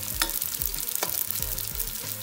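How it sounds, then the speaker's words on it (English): Small wontons frying in peanut oil give a constant crackling sizzle, close and busy, with a few sharper pops and low stirring knocks beneath. "So we're frying these little wontons"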